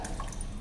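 Water splashes briefly and softly as it is poured into a polythene bottle during a chemistry lab demonstration, with a short dripping, gurgling sound and no speech.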